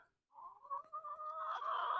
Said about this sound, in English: My chickens are noisy today. They want snacks.